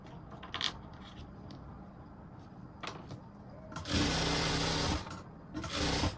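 A sewing machine stitches a princess-cut blouse, first in a few short quiet bursts and then in two loud, steady runs of rapid stitching close by.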